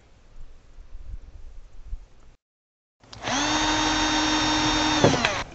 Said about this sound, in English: now I've got my marks, and I'm going to pre-drill this